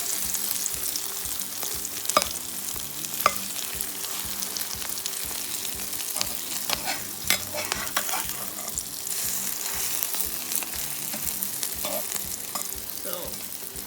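Omelette frying in a pan after being flipped, cooked Gambian style, gives a steady close sizzle that runs throughout with scattered crackling pops and no talk.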